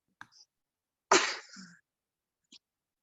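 A single sharp sneeze from someone nearby in a quiet room during a kids' online class, a short burst with a faint breath before it and a small sound after.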